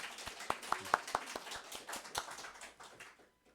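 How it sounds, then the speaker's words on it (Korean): A church congregation at a Sunday service gives a short burst of clapping, a handful of distinct claps building and then thinning out over a few seconds, fairly quiet and close. "하나님께 영광의 박수 한번 돌리십시다."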